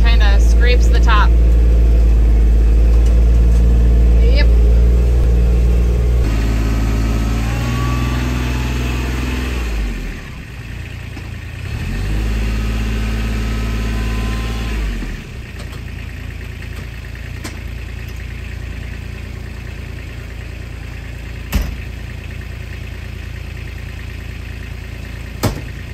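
A car engine idles and revs up close as the car is driven slowly into a farm hoophouse in January. Its loud, steady rumble shifts pitch as it moves, then settles lower near the end.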